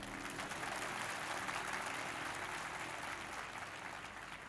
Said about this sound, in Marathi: आता टाळ्या दोन्ही गोष्टींकरता वाजवा